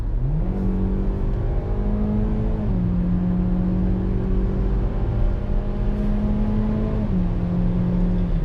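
A 2021 Hyundai Elantra SEL climbs a hill with a loud, steady engine drone inside the cabin. The pitch rises, then drops twice as the transmission makes simulated gear shifts, and no one speaks.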